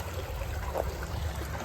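Creek running full and fast after a storm that brought down trees and branches, a steady broadband rush of water filling the whole moment without pause, fairly loud and close, with no voices over it.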